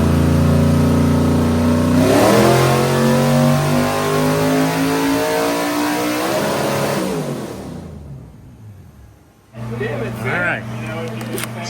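A Ford Mustang engine with a stuck throttle revs hard and holds a loud, rising roar for several seconds, then cuts out abruptly before a short restart, close by with someone talking over it.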